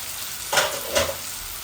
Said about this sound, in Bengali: এখানে দুইটা সুইট পটেটো আছে আমি দিলাইছি ওগুলো একসাথে বাজবো